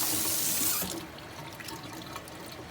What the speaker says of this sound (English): once it's soaking wet, you just wring out as much water as you